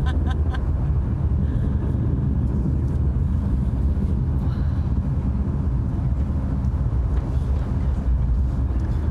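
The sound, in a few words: New Shepard rocket BE-3 engine roaring during launch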